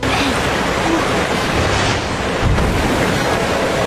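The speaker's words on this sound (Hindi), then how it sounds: "पॉपी के साथ नाव पर निकल पड़ता है और आखिरकार वो उस रोलर को पार कर तेजी से पानी के बहाव के साथ आगे बढ़ने लगते हैं।" A boat rushing along a fast river current in a movie scene, a steady loud roar of churning water and wind that stays constant throughout.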